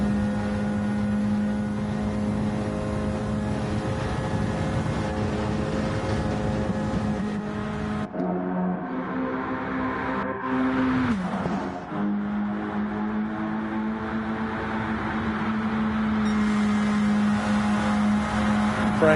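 Racing cars in a Gran Turismo 7 stock car series race, a loud unbroken multi-engine drone with layered whining harmonics and brief pitch dips as cars shift and pass, filling the whole stretch without talk.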